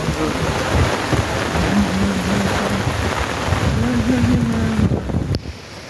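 Heavy rain falls steadily during a downpour, with a dense, loud hiss that holds throughout. Wind buffets the microphone and low rumbles sit underneath.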